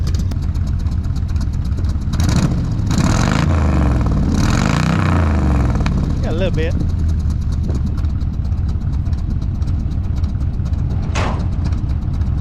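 A worn-out 1979 Chevy engine runs at a steady, rough idle close by, with a brief rise around the middle, while someone talks over the constant rumble.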